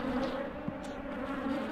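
Honey bees buzzing at a hive in woodland, a steady close drone with no voices.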